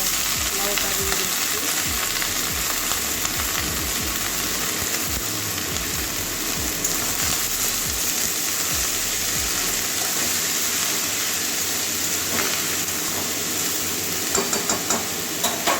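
Onion sautéing in a pan for Bengali lau posto, a constant loud sizzle with regular scraping stirs from a spatula and a few clicks near the end.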